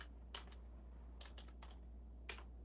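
Typing on a computer keyboard: a handful of quiet, crisp key taps in short irregular bursts over a low steady hum, close and alone with no talk.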